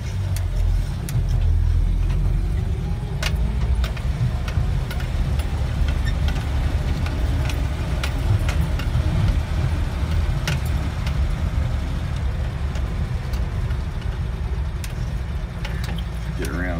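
A 1976 Toyota FJ40 Land Cruiser pulls away in first gear, its engine a steady low rumble with faint mechanical rattles and clicks throughout, someone speaking intermittently over it.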